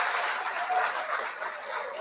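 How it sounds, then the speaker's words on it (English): Round of applause for a guest at the close of a live hip-hop discussion, steady dense clapping with no gaps, moderately close throughout. "One more round of applause for my dog JV"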